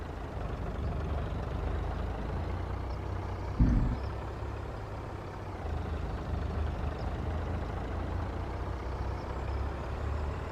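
A logging truck drives along in Farming Simulator 25, its steady engine rumble heard throughout, with a brief louder thump partway through.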